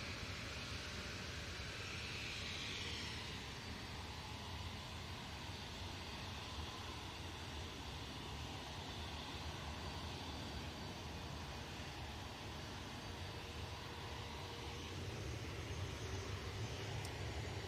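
A Jet2 airliner takes off, its engines making a steady, broad roar that holds at a moderate distance throughout.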